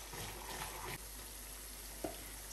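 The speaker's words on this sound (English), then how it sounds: "And I will pour in bay leaf. The bay leaf. I will allow this to fry for a little while" Bay leaf frying in oil for jollof rice gives a soft, steady sizzle that stays faint and even throughout, with one small clink near the end.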